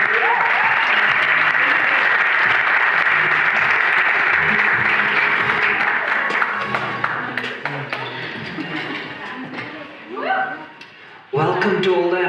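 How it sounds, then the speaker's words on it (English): An audience at a sold-out spoken word show applauds loudly as Stanley is welcomed on stage. The clapping is dense at first and then fades as a voice starts speaking near the end. "can I please have a warm round of applause for Stanley up"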